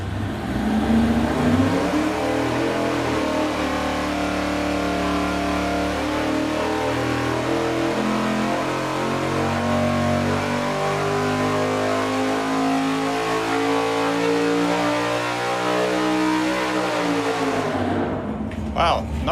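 A 478 cubic inch big block Chevy with long connecting rods revs hard on an engine dyno, a loud, sustained rising roar that holds near full throttle for many seconds, then cuts off abruptly at the end.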